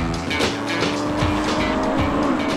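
A Honda Civic Type R races on a circuit, its high-revving engine screaming loud and close, with rising and falling revs between gear changes as it closes on a Celica, rival cars nearby.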